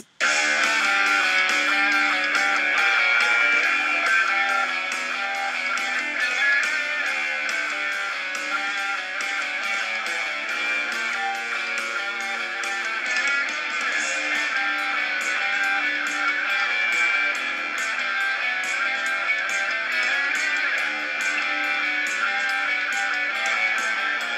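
Dense rock music plays continuously, with steady driving drums and bass under layered guitars at an even, loud level throughout.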